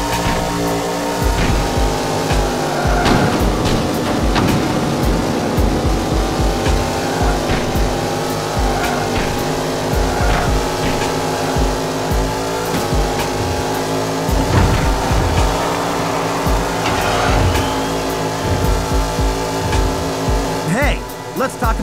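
Race cars roar and jostle in NASCAR Unleashed, engines droning continuously at high volume with shifting pitch and occasional tire squeal, a close, busy wall of motor sound throughout.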